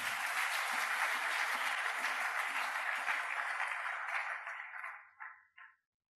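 A church congregation applauding during a worship service, a dense sustained wave of clapping that fades out near the end, with a few final scattered claps before silence.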